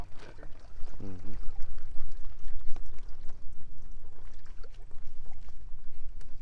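Water splashes and pours steadily as minnows are released from a fish truck into a farm pond, a continuous rushing wash with brief clatter near the start.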